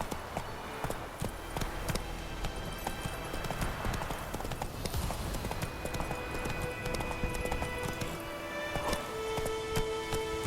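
Roach the horse gallops in The Witcher 3, hooves clip-clopping in a fast, steady rhythm close by, layered over ambient game sound.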